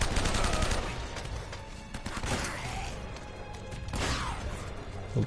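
Gunshots ring out in the Uncharted video game, with loud, sharp cracks and a rapid string of bursts early on, then scattered impacts and a heavy crash against a continuous noisy game backdrop.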